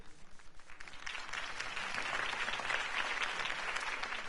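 Sustained crowd applause in a Batman video game, many hands clapping in a dense, steady wash that swells after a second and holds loud to the end.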